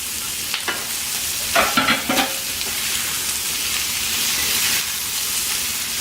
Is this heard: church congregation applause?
no